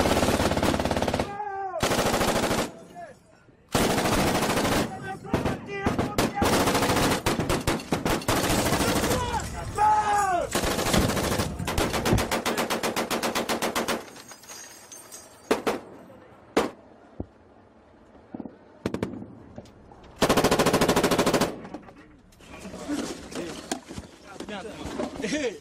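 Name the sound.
gunfire during French Foreign Legion APC firing exercise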